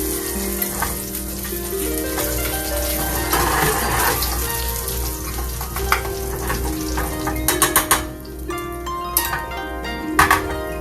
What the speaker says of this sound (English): So now that I got my butter going, add in my brown sugar.